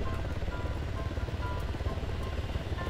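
A helicopter flies overhead in the military video game Arma 3, its rotor drone loud, close and constant with a low rhythmic throb.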